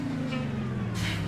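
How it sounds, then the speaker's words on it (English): A steady low diesel idle from the Rubber Duck truck in American Truck Simulator, an even rumbling hum that holds constant with a brief hiss of air near the end. "Let's go ahead and fire this thing up and listen to it."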